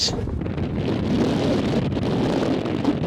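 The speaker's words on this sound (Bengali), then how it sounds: "এত পরিমাণ বাতাস" Strong wind buffeting the microphone on a hilltop near the Langkawi Sky Bridge, a loud continuous roaring rush without pause, filling the whole clip.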